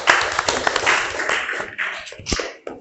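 Brief burst of clapping from a small group, likely students in a classroom, loud and close at first, then thinning into scattered claps and a few last taps over about three seconds.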